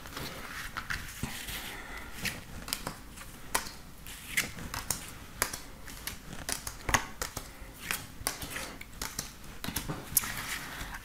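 Tarot cards shuffled and drawn by hand, a quiet, irregular run of crisp card snaps and flicks close by, over a low room hush, with no speech.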